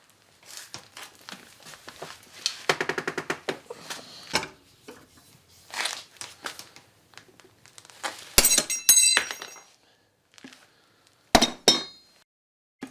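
A cheap eBay Damascus steel knife blade is bent until it cracks at poorly made welds, heard as a series of sharp metallic clinks, snaps and knocks in uneven bursts, close up and with no talking.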